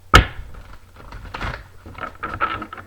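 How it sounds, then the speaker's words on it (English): A deck of tarot cards is shuffled up close, opening with one sharp snap and followed by soft, papery riffling and clicking bursts that build again near the end. "One more shuffle."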